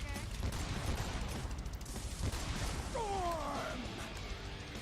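Gunfire from the video game Lollipop Chainsaw comes as a rapid burst of shots over dense game noise and music, with a rising whistle-like effect near the end.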